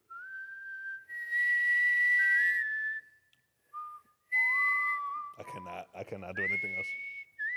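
A person whistles single sustained notes, clear and close, in two long held stretches broken by a pause, with brief speech near the end.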